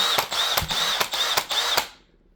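A power drill fitted with a scrub brush buzzes in steady bursts, pulsing about five times in quick rhythm, loud and close, then stops.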